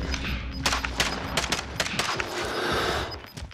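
Video game gunfire crackles in a quick series of sharp shots and bursts at moderate loudness, with steady background noise throughout.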